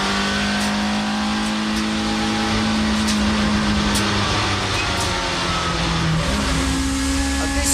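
Touring car race cars from a 1990s championship, among them a Volvo and an Alfa Romeo, scream along a circuit beneath a bridge, engine tones rising and dropping through gear changes in a continuous loud roar with no talking.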